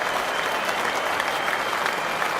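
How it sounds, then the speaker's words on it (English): Cricket crowd at Lord's applauding a century in a one-day match, dense sustained clapping from a large stadium audience that stays even throughout. "And the Lords crowd are up on their feet again."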